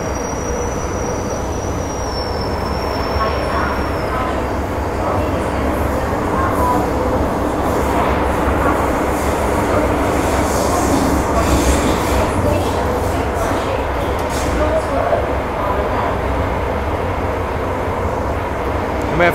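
An MTR Island Line M-Train rolls between stations in Hong Kong, a loud continuous rumble of wheels and motors heard from on board, with a faint high squeal early on.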